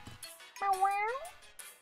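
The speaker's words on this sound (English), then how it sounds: "I think the kitty cat is asking to be let out of the room." A house cat gives one clear, drawn-out meow indoors, with a voice and other voices murmuring faintly around it.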